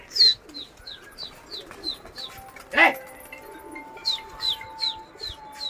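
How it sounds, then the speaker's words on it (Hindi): Soft, repeated pigeon coos in a steady series, with a brief rustling burst in the middle and quiet outdoor background. "तो गाइस हमारे तीन कबूतर उड़ रखे हैं।"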